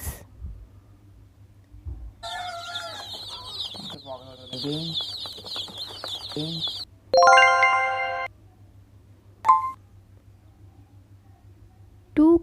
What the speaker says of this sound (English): 8 chicks.